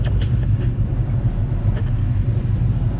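A Luhrs 28 boat's engine idles in gear, a steady low rumble with a faint irregular ticking on top, close and unbroken for a few seconds.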